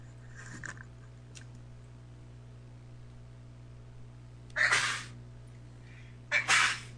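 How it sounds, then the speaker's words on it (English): Two sharp, loud sneezes burst out close by, about two seconds apart, each an explosive rasping blast with a harsh, angry edge, set against a steady low hum and a faint earlier noise. "That's a rather angry kind of sneeze."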